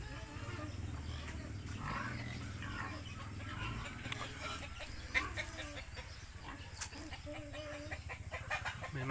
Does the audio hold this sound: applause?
no